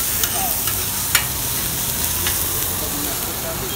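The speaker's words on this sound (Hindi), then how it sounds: "जल्दी जल्दी मक्खन डालो, नहीं तो हमारा जो मसाला है ज़्यादा ही पक जाएगा" Masala and Amul butter sizzling in a pan on a street-stall griddle for paneer masala dosa in Ludhiana, a steady loud frying hiss with occasional clinks of a spatula scraping through.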